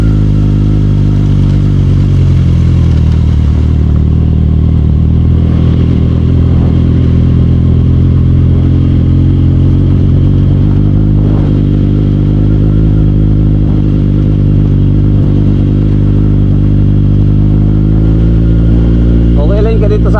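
A motorcycle engine drones loud and steady on a rough road between Malabrigo and Laiya in San Juan, Batangas, with rattling and clatter over the constant low hum, while a voice talks over it.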